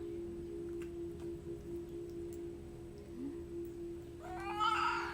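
A cat meows at the end, a rising, slightly strained call that starts quietly and swells louder over a steady background hum.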